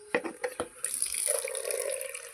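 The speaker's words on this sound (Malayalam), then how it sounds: "അപ്പോൾ നമുക്ക് വെള്ളം നിറക്കാം." Tap water running into a cup after a few short splashes, then a steady close trickle that keeps filling.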